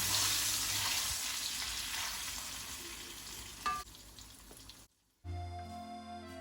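Steady, dense sizzling of marinated beef frying in hot oil, loud and close, with a brief clatter and a short pause before the frying resumes.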